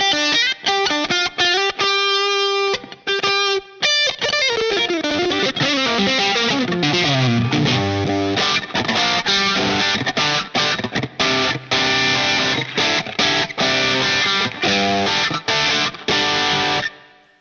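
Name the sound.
Line 6 Pod HD500 Blackface Lux Vib amp model guitar tone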